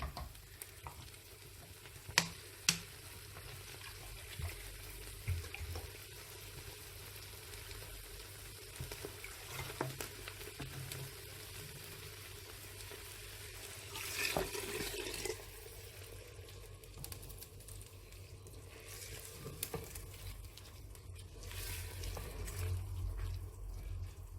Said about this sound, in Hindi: मिक्स करने के बाद अब हम इसमें पानी डालेंगे।